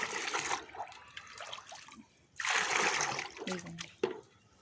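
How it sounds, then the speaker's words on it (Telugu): Water is poured from a container into a bucket to mix a liquid feed for vegetable plants: two gushing, splashing pours close by, separated by a short pause. "ఈ బకెట్ నీళ్ళలో వాటర్ కలుపుకుంటున్నాను"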